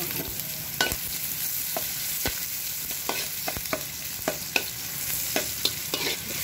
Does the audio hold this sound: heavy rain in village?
no